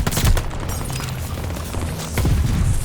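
Explosions and gunfire in the game Call of Duty Vanguard, a loud boom at the start followed by a dense rumbling barrage of blasts and shots that swells again near the end, no talking.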